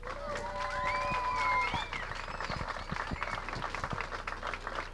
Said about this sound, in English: How about a nice round of applause, Rob Vinci.